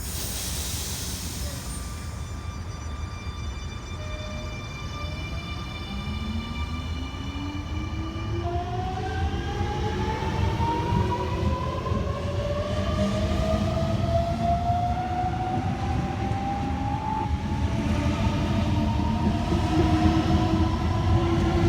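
A Sydney Trains all-stations service to Revesby pulls away from the platform at Bexley North on the East Hills line, its rising electric motor whine climbing steadily over a continuous rumble and hiss, loud and close throughout with no talk.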